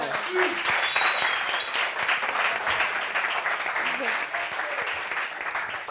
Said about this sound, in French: Applaudissements pour les interventions